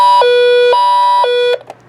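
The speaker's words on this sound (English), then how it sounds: "Classic. 90s alert siren." A 1990s Emerson EWR 850 weather radio sounds its alert siren, a loud close two-tone wail alternating high and low pitches in even half-second steps, cutting off abruptly near the end.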